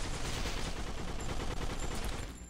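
Dense, continuous rapid gunfire in the video game Kill the Emoji, a steady loud automatic barrage filling the whole moment without pauses and without speech.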